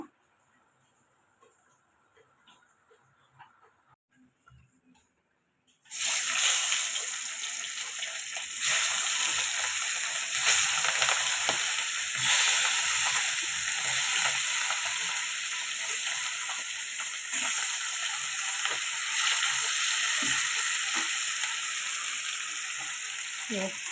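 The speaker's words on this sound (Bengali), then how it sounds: "এবার এগুলোকে ভালো করে ভেজে নেব" Cut hilsa fish frying in hot oil, meant to go with khichuri; after several seconds of near silence a loud, dense sizzle suddenly bursts in and then holds steady and close to the end.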